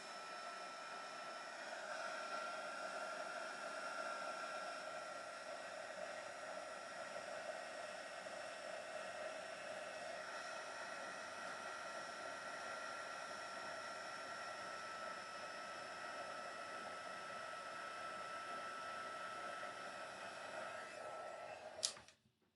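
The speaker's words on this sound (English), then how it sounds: "So that is our heat embossing." Heat gun blowing steadily during heat embossing at a craft desk, a faint, even whooshing hiss that runs almost unbroken before a sudden click and cutoff at the end.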